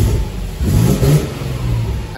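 A Nissan 350Z HR engine is revved and hesitates, a loud nearby engine note that climbs in short uneven pushes and sags between them rather than rising smoothly.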